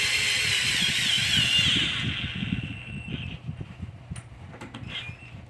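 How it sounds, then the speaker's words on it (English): Power ratchet fitted with a 5/16 socket tightening a bolt on a Toro lawn mower: a steady high buzzing whir for about two seconds, then quieter clicks and rattles of handling, close and loud. "put it in your power tool ratchet, and tighten it down"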